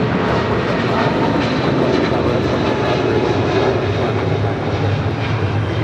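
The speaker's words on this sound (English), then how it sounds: "That is United Airlines 2471 departing to Newark on a 777-200." A United Airlines Boeing 777-200 jet departs LAX for Newark, a loud, steady, broad engine roar that holds without letup, close and alone.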